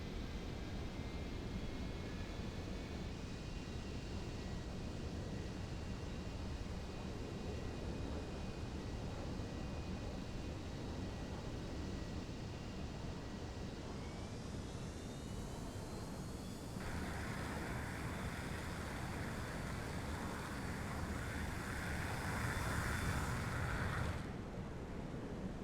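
Jet aircraft launching from a carrier deck in the naval game Sea Power, a steady engine whine that rises in pitch and swells into a loud roar before cutting off.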